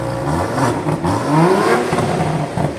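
A multi-cylinder car engine revs hard and steadily, its pitch climbing and falling as the throttle is worked, loud and close with no talking.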